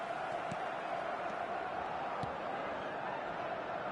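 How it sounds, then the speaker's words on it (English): Steady crowd applause and murmur fill a football stadium in the PES video game, a constant wash of clapping with no clear peaks, heard alone. "it's applause all around us here"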